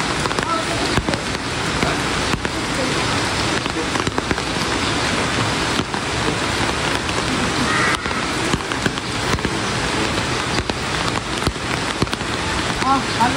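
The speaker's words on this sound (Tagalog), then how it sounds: "Gawa po ng malakas po ang ulan." Heavy rain pours steadily on a surface, a dense continuous hiss with scattered sharp patters throughout.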